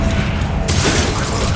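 Confringo blasting spell exploding in Hogwarts Legacy, a loud blast with a mechanical crunching edge and a sudden bright burst partway through, followed by a dense rumbling roar and no talk.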